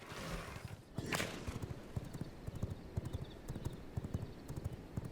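Horse hooves clip-clopping steadily in the video game V Rising, a continuous rhythmic trot of close, fairly loud hoofbeats with a brief whoosh near the start.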